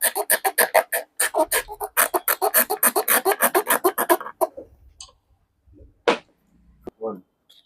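Rapid rhythmic scraping on a test point of an LG 32-inch LED TV board with a blank-panel fault, about two dozen quick close strokes that stop after four seconds, followed by a few faint scattered scratches.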